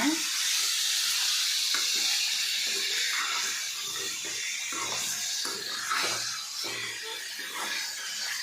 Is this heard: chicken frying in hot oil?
yes